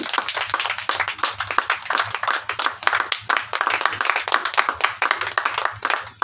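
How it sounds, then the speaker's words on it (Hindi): A church congregation at a convention claps hands in praise, a dense, loud, steady patter of many hands continuing throughout without pause. "परमेश्वर को महिमा की तालियां देंगे"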